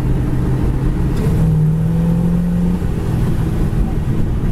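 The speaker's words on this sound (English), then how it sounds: "You can just feel the torque of the engine when you give it gas." A 1940 Pontiac coupe fitted with a Pontiac 400 engine pulls under throttle from inside the car, a steady close engine drone that rises in pitch mid-clip and then settles.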